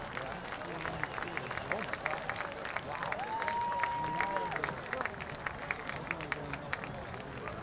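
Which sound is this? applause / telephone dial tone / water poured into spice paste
applause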